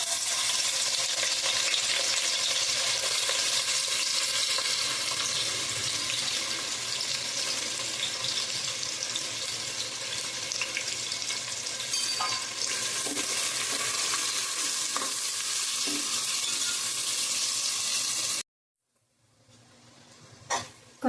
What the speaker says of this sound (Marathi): आता आपण कांदा तेलात तळून घेणार आहोत